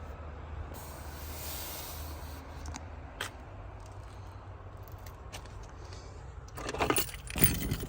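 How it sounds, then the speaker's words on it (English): Keys and remotes for a 1998 two-door Jeep Cherokee XJ jangle close by, a short metallic jingling burst near the end after a quiet stretch with faint clicks. "Three keys and the remotes."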